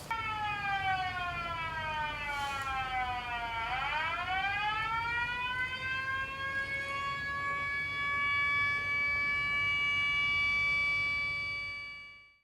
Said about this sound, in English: Okay, the siren's gone off.